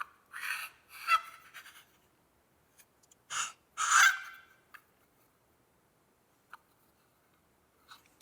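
A homemade wooden turkey box call, freshly chalked, is scraped in short raspy yelping strokes, a few clustered calls then sparse faint scrapes, close and without talk.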